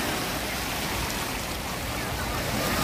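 Broadband wash of water churning in a waterpark wave pool on a hot day in Fresno, a steady close roar with no distinct breaking rhythm, faint voices mixed in.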